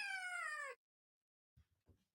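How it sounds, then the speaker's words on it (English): A single drawn-out cat meow, loud and close, is played back as a recording and cuts off abruptly, followed by silence and then a few faint, brief low sounds. "yes, the cat is louder"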